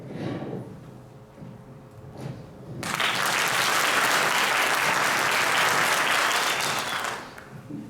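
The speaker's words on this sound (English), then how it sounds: "you clap loudly for your children" Parents at a high school demonstration concert erupt into sudden loud applause after a few seconds of quieter murmur, a thick sustained clapping that holds for several seconds then tapers off.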